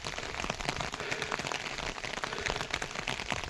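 Steady rain patters down in a Uttarakhand village during a snowfall, a dense, even hiss of drops striking nearby surfaces with scattered sharper taps throughout.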